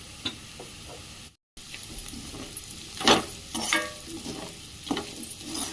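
Ground spice powder being stirred into potatoes frying in a pan, a low sizzle with scraping stirs and a few louder clanks of a spoon against the pan, with a brief dropout partway through.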